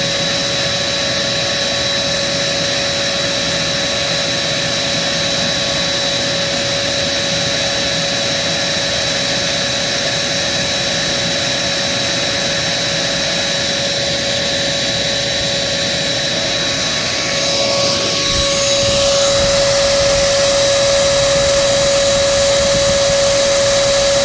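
A Kenmore EVO handheld vacuum runs continuously, a loud close steady whine with a strong constant tone that surges slightly near the end, with no talk.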